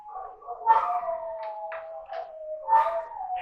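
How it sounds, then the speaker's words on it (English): Several dogs howl near a fire station, setting off after the sirens: long wavering cries that rise and fall in overlapping, sustained tones, fairly close and loud, with no talk over them. "And now my dogs are howling."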